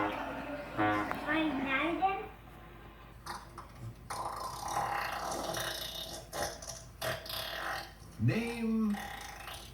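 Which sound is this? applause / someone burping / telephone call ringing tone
someone burping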